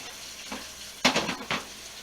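Food frying in hot grease, with a soft steady sizzle punctuated by a few sharp crackling spurts and stirring scrapes, close and alone without talk.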